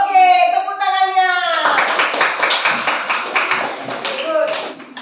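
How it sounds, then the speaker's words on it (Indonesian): Fourth-grade children in a classroom clap together in a rhythmic pattern of quick, bright, fairly close claps after a brief burst of children's voices. "Oke, tepuk tangannya."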